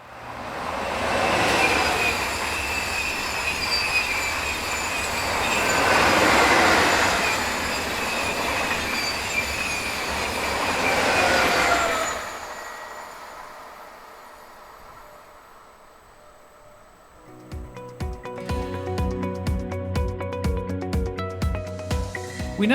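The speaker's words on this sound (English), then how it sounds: "French TGV sets numbers 4730 and 4722 are seen on this Paris to Zurich working." A pair of coupled French TGV trainsets on a Paris to Zurich service roar past on the Swiss main line near Olten, a loud rushing swell with wheel squeal, then quieter before rhythmic clickety-clack of wheels over rail joints.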